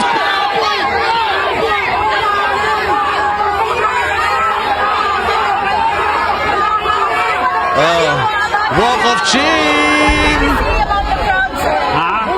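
A dense crowd of protesters at a street rally fills the air with overlapping shouts, chatter and chanting, with a voice speaking close by over the continuous loud babble.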